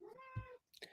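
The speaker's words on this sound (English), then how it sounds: "My cat's there talking." A house cat meows close by, giving one drawn-out, tonal call followed by a short chirp, fairly quiet, with a thump partway through and a faint voice nearby.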